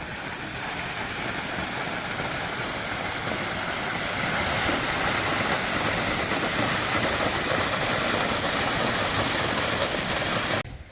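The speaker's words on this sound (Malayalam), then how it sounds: "അത്രയും ഉയരത്തുനിന്നാണ് ഈ വെള്ളം ചാടുന്നത്" A constant, loud roar of a tall waterfall in Sikkim in heavy rain fills the scene without pause, broad and rushing, cutting off abruptly at the end.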